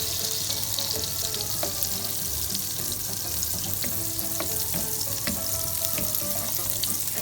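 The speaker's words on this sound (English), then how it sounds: "add your 1 tablespoon of butter or your remaining butter that you have. Let that melt away." Butter melting into olive oil in a hot pan makes a constant, close crackling sizzle with scattered small pops throughout.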